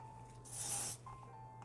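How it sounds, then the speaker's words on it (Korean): A single close hiss of hairspray sprayed onto the palm of a hand, lasting about half a second against a quiet background hum. "손바닥에 스프레이 뿌려서 머리카락 만져주시면"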